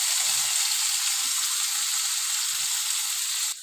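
Tomatoes frying with garlic and onion in a pan, giving a steady broadband sizzle throughout with faint stirring knocks underneath, and the sizzle drops off sharply near the end.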